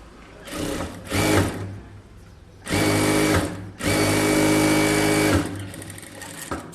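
A sewing machine stitching blouse fabric in a tailoring session, running in three bursts of fast even whirring, a short one, then two longer steady runs, close and loud with brief pauses between.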